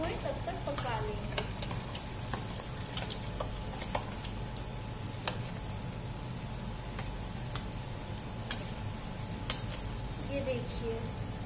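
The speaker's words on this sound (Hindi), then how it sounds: "अब हम इनको गोल्डन ब्राउन जब तक होए तब तक पका लेंगे" Bread gulab jamun balls fry in oil toward golden brown, giving a continuous soft sizzle with scattered small pops and occasional ticks throughout.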